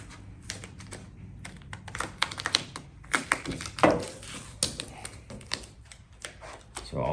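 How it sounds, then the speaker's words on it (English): Sticky tape is pulled and pressed onto a sanded car body panel for masking before priming, making a quick series of crackly tearing and tapping noises at close range with irregular rhythm and no talk. "I'll do the old sticky tape trick"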